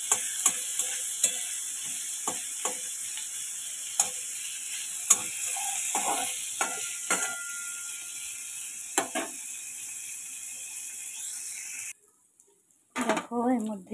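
Pointed gourd frying in a pan, with repeated clinks and scrapes of a spoon stirring over a steady sizzle; the sizzle cuts out near the end, and a few louder knocks follow.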